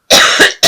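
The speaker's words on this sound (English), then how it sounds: "I'm so sorry about this cough." A person's cough, loud and close: a long, rough hacking burst, a second short one, then a third after a brief pause, with no talk.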